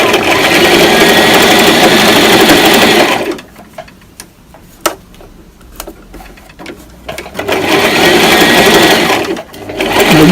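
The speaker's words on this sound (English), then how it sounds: "And you continue sewing." A sewing machine stitches T-shirt fabric in a steady, loud, close whir that drops out in the middle for a pause with a few light clicks and handling sounds, then starts up again.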